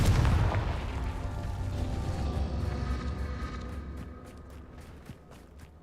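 A Confringo fire-spell explosion in the Hogwarts Legacy video game, a loud deep boom at the start that rolls and fades slowly over several seconds, alone with no talk.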